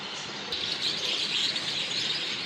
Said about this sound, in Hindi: चिड़ियों की और कबूतरों की आवाज़ें आ रही हैं, तोतों की